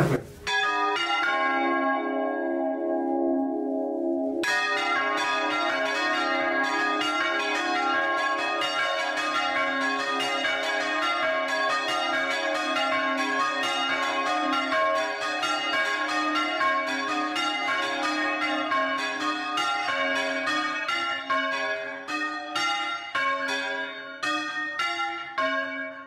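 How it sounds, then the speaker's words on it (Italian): Church bells in Bologna's bell towers, rung by hand by bell ringers, peal loudly and continuously at close range, many tuned bells striking in a dense overlapping rhythm throughout. "I campanili bolognesi possiedono gruppi di campane più o meno intonate e voluminose a seconda dell'importanza delle rispettive chiese e basiliche"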